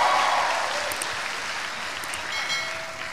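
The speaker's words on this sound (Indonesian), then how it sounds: "Tepuk tangan buat Facebook." A crowd claps steadily for a stand-up comedian at a comedy audition. The dense, even applause fills the whole short stretch with no speech over it.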